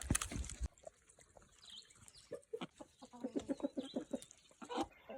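Chickens cluck at sunrise on an off-grid farm, with a burst of close, busy clucking that settles into sparse calls and then a quick run of rhythmic clucks near the end; no talking.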